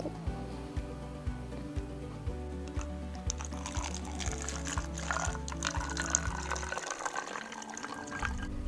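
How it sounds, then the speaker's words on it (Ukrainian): Vinegar pours steadily through a funnel into a bottle, a gurgling, bubbling stream whose tone shifts as it fills, then a brief rushing splash near the end. "і переливаємо оцет"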